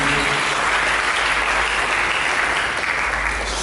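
Applause from a church congregation fills the space, a loud, steady wash of many hands clapping continuously with no voices over it.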